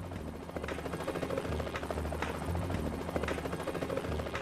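A helicopter flies over a forest in Hawaii, its rotor producing a loud, steady thumping drone that stays constant throughout.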